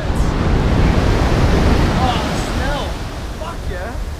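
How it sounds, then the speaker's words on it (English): Ocean surf at Malibu Pier rolls in as a loud, steady roar with wind noise buffeting the microphone, while voices call out faintly over it. "These waves, boy."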